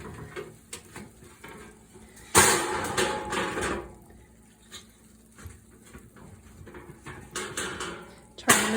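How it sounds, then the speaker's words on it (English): A homemade lasagna pan comes out of the oven with a sudden loud clatter of metal bakeware, followed by softer scattered clinks and shuffling, then another sharp knock near the end. "it is time to bring this lasagna out of the oven"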